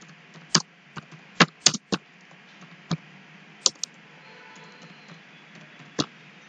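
Answer being typed on a computer keyboard, sparse, close key clicks in irregular bursts over a quiet room hum, with no voices.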